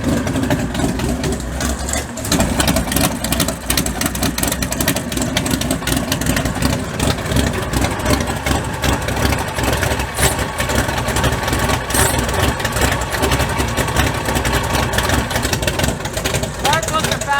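A bog truck's engine idles roughly on fouled spark plugs, a loud continuous uneven rumble with a brief dip early on, while people talk over it.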